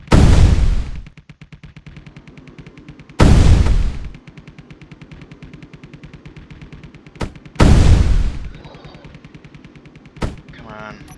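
A 22 millimeter turret in the Space Engineers game fires sustained rapid automatic bursts, loud and close, with three heavy booming blasts striking at intervals over the steady rattle.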